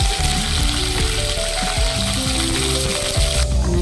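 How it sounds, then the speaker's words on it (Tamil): Small and big onions sauté in a hot pan, giving a loud, continuous close sizzle with occasional stirring scrapes and bumps and no talking. "நல்லா வதக்கணும்"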